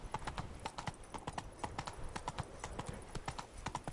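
Rhythmic hoofbeats of a horse galloping in The Witcher 3, steady clip-clop strikes repeating quickly and evenly, close and fairly loud, with no voices.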